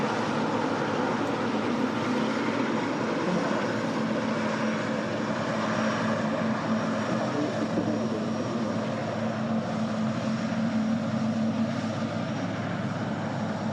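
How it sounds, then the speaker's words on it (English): Aircraft taxiing on idle at Manchester Airport, a loud, steady engine drone with a constant whine that holds throughout, close by and alone without talk. "Love the noise. Sounds like they kind of taxi on idle, don't they?"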